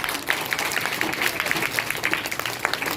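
Children in a group clap for themselves, a dense, steady burst of applause lasting throughout with a few voices mixed in.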